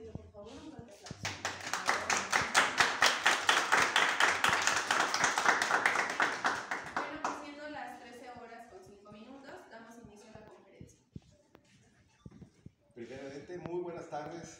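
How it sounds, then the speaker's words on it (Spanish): At a museum farewell event and collector's talk, an audience breaks into dense, loud applause for about six seconds that then fades, followed by a person speaking with pauses. "a los cuales les pido por favor un fuerte aplauso."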